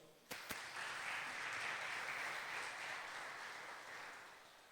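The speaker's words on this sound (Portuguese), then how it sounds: "Aplaude ao Senhor." Congregation applause to the Lord during a Portuguese-language sermon on the principle of priority, opening with a couple of sharp knocks before steady, even clapping fills the room at a moderate distance.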